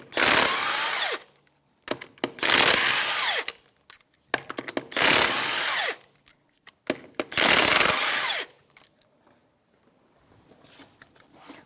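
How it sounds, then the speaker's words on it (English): A power tool spins off lug nuts from a 2013-2018 Toyota RAV4 wheel with a 21mm socket, giving four loud whirring bursts of about a second each, separated by short pauses filled with metallic clinks and rattles. "remove the lug nuts"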